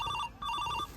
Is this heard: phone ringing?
yes